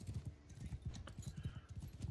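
Horse hooves galloping in Mount and Blade II Bannerlord, a fast, steady run of thudding hoofbeats at close range, continuous and moderately loud.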